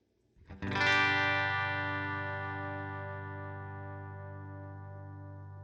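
A single electric guitar chord played through Line 6 HD500 amp modeling, struck once with a distorted attack and left to ring out, slowly decaying with a slight tremolo wobble in the low end, alone and close.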